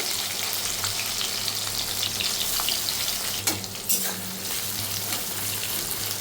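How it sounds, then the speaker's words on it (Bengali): Chopped onions hiss and crackle in hot oil tempered with whole cumin seeds, a steady close sizzle with a couple of sharper stirring scrapes partway through, no voices. "এখানে কিছুটা পরিমাণ গোটা জিরা দিয়ে ফোড়ন দিয়ে, আর এর মধ্যে দিয়ে দেবো কেটে রাখা কুচি করে রাখা পেঁয়াজগুলোকে"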